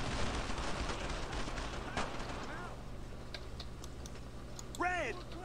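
A quick burst of gunfire in the 2005 World War II shooter Brothers in Arms: Road to Hill 30, followed by a few faint clicks and distant shots under a steady low hum, with a voice speaking over it.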